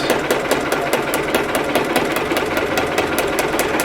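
A sewing machine runs steadily while stitching the outline of a tear-away stocking, a loud, fast, even mechanical chatter of needle strokes close by.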